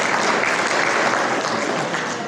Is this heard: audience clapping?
yes